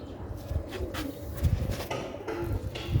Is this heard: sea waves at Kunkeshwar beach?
no